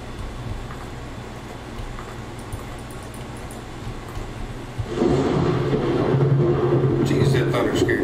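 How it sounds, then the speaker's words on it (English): Deep thunder rumbles through a horror video game set in a bunker, swelling suddenly and loudly about halfway through and rolling on steadily under a continuous low drone. "Jeez, that thunder scared the shit out of"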